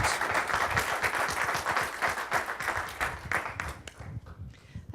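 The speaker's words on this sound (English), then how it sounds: "Well, let's give Jess another round of applause." An audience at an evening reception and project update breaks into a round of applause, steady dense clapping that fades out over a few seconds, with no talk over it.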